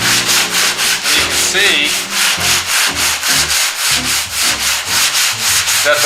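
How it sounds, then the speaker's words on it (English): Hand sanding block loaded with 80 grit sandpaper worked over primer on a 1969 Chevelle SS body, loud rhythmic back-and-forth rasping strokes close by, about three per second, with a brief spoken phrase in the middle. "So I'll take the block with the 80 grit."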